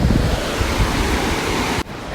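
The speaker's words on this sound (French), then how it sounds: "il y a une très grosse cascade. Je pense que vous l'entendez arriver" A large waterfall in the Rocky Mountains gives a loud, continuous, full-spectrum roar up close, then drops away abruptly near the end.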